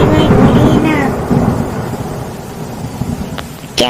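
A big storm at sea as a thunderstorm sound effect: a loud, rolling thunder rumble opens and fades under a constant wash of rain and wind, with brief voice-like traces in the mix.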